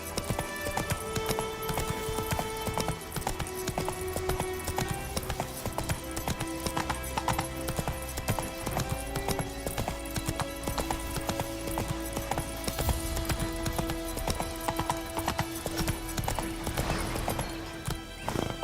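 Roach, the horse in The Witcher 3, gallops with steady rhythmic clip-clop hoofbeats, loud and continuous, under a layer of game music and ambience.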